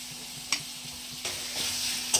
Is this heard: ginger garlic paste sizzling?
yes